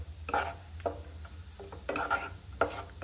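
A spice mix with chili powder is stirred in a pan, several separate scraping strokes of the spoon against the metal over a low background hum, close and moderately loud, with no voices.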